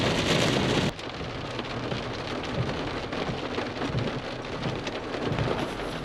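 A heavy rainstorm outside a Food Lion store pours down steadily, with rumbling thunder underneath. A brief louder burst opens it before the rain settles into a dense, continuous wash.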